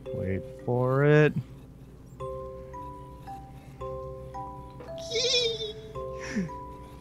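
Mob pain sounds in the video game Minecraft, with a wobbling bleat-like cry and later squealing hurt noises over steady game music notes.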